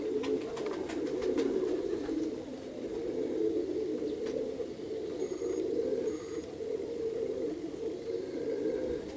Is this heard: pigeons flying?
yes